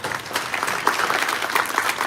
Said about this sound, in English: So I'd like you to clap for Farah